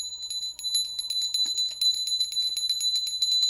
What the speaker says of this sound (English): One further thing, a little bell. Listen to the pitch.